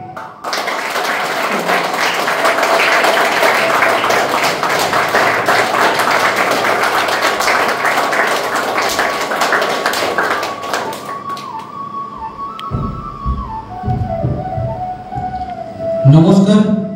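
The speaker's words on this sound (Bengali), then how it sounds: "করতালির মাধ্যমে ডেকে নিচ্ছি সমরেশ দাকে।" Audience applause welcoming the next participant at a stage event, a dense, steady patter of many hands clapping for about ten seconds before fading into quieter room sounds and a few tonal notes.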